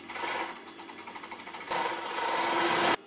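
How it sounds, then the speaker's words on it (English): An overlocker sewing machine hums and whirs close up while stitching fabric tubes for sock puppets, running continuously with a slight speed change partway before stopping abruptly. "And using the overlocker"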